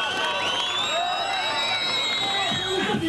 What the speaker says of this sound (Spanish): démosle un aplauso de bienvenida al Universo Sur